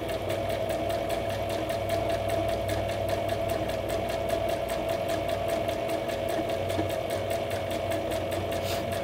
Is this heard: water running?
no